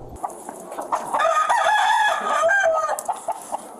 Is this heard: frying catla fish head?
no